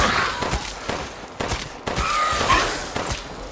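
Gunfire rings out during combat in the video game Resident Evil 8 Village, a rapid volley of sharp, loud shots and bursts repeating throughout with brief pauses, no talking over it.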